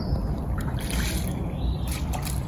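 Fresh water trickling and dribbling steadily outdoors as it is gathered from a natural source, a continuous close, low-level liquid flow with no talking.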